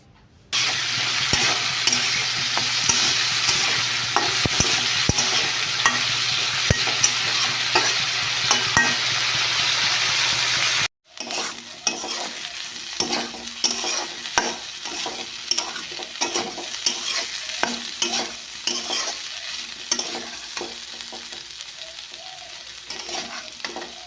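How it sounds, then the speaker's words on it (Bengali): Cauliflower and potato with turmeric and salt fry in a pan with a steady, loud sizzle, then a spoon stirs them with repeated scraping and clattering strokes over a softer hiss. "তারপর ফুলকপি আলুটা দিয়ে হলুদ নুন দিয়ে এখন ভালো করে নাড়াচাড়া করে নিয়েছি"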